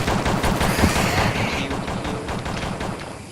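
Rapid automatic gunfire in the zombie shooter game Dead Horde, a dense continuous burst of shots close and loud throughout.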